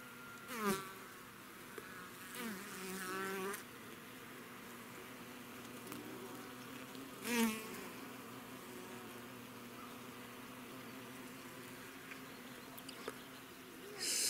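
Forager honey bees gathering drops of sugar syrup at a hive entrance in autumn, a steady close buzz with several louder passes as single bees fly near, no talking.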